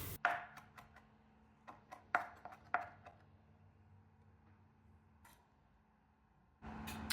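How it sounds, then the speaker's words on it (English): Knife chopping green onions, red bell pepper and cilantro on a board, a series of sharp, close taps in an uneven rhythm, then a quieter pause before a louder burst of cutting at the end; no talking. "that is my green onions, which I am chopping up 3 of those, and 1 red bell pepper that I am finely dicing"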